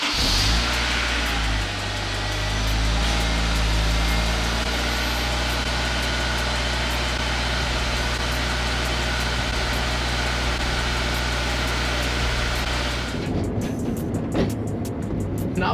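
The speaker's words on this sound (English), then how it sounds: "we got the last stock cold start on this car" A stock-exhaust Nissan Z car cold-starts and idles with a loud, steady low engine drone and a high whine, then the engine cuts off abruptly near the end, leaving faint clicks and ambient noise.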